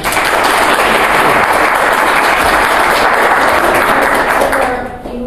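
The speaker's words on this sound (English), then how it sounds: "So I consider we start with a warm applause for this session." An audience at a service systems thinking class session claps loudly and densely, a close, sustained wash of applause that tapers off in the final second.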